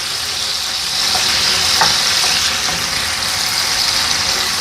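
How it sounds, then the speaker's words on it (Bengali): Pointed gourd (potol) frying in a wok with fenugreek seeds and dried chilli, giving a steady, even sizzle with a few faint pops and no voices. "আমার পটলগুলো ভাজা হয়ে গেছে"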